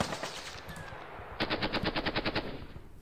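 Machine gun fire in the Panzer Battles Normandy wargame: a rapid, evenly spaced burst of about a dozen sharp shots, loud and alone, following a stretch of steady background noise.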